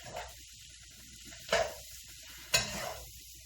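Ramen noodles frying in oil with spices, a soft continuous sizzle broken by three sharp stirring scrapes and bursts of crackle, close and fairly quiet.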